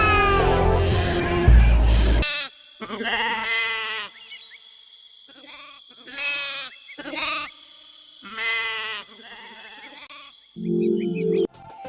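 Bleating sheep and goats for the shepherds' flock in a church nativity play, a series of loud, wavering bleats in close succession over a steady electronic hum, preceded by a burst of music.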